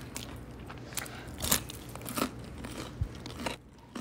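Several sharp, crisp crunches from biting into crunchy fried chicken, close up, with brief chewing crackles between bites and no talking.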